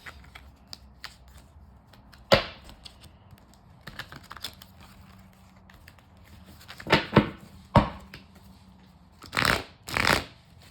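Tarot cards being shuffled in several quick bursts, riffling rustles separated by pauses and small taps, close up and without speech.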